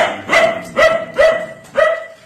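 A dog barks four times at a steady pace, loud and close, with no talking.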